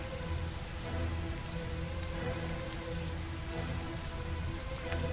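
Heavy, loud rainfall in the video game Heavy Rain, a dense continuous hiss of drops pattering on surfaces, with no voices.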